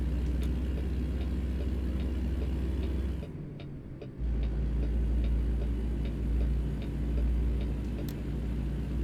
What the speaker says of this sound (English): Sorry for the ticking sound. That is the pipes from my upstairs neighbors whenever they use the water